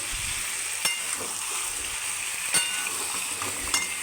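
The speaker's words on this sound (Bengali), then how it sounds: "এবার এটাকে নাড়তেই হবে নাড়তেই হবে যতক্ষণ না আলু লাল হবে ততক্ষণ এটা নেড়ে যেতেই হবে" Potatoes for aloo dum fry in hot oil in a pan, giving a steady, close sizzle punctuated by a few sharp clicks from a spoon as the pieces are stirred.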